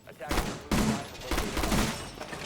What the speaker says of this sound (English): Matt just shooting into a wall